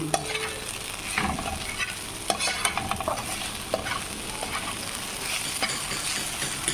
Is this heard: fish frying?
yes